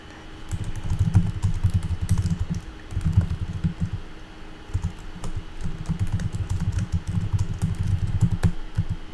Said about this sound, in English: Can you hear my keys clicking?